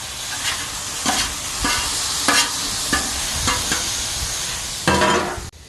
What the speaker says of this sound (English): Toss it around. We're just going to brown it up.